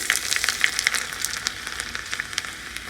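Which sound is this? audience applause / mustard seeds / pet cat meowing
mustard seeds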